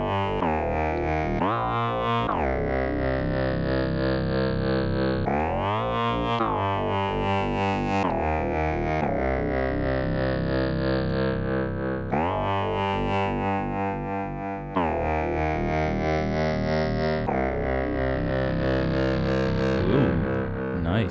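An Elektron Digitone synthesizer in mono mode plays a sustained, distorted lead line whose notes glide into one another, loud, continuous and unaccompanied by talk.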